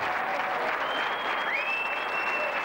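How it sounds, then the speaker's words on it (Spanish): Steady crowd applause at a Pirelli tyre company party, a dense wash of clapping throughout, with faint music or tonal sounds threading over it. "Fuerte el aplauso para él."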